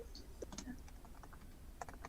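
Rapid, light clicking of keys on a computer keyboard, soft and close, in a quick irregular burst against faint room hum.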